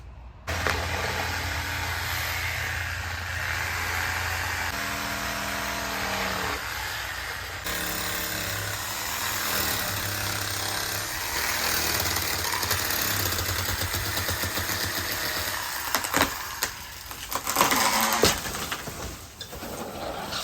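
A gas-powered chainsaw runs continuously, its motor droning and rising in pitch as it bites into wood, loud and close for about twenty seconds.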